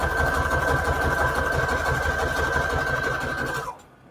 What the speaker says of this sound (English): I'm going to sew down this way and then down that way with a zigzag stitch with the length of 3 and a width of 5.